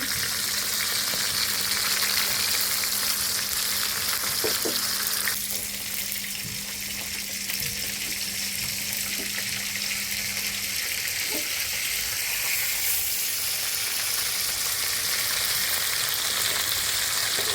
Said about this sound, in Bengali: বন্ধুরা এই যে মাছটা আমি এখানে কড়া ভেজে নিচ্ছি মুসমুসে করে